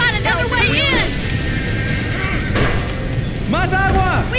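Horses in the video game Red Dead Redemption whinny loudly, one neigh early and another near the end, over a dense, noisy scene of rumbling and commotion with people talking throughout.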